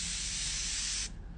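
A can of Evian water gives a steady pressurised spray hiss for about a second, close and fairly quiet, then cuts off sharply.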